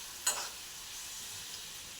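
A dish cooks quietly in a pan, giving a faint steady sizzle with one brief clink of a spoon near the start and little else.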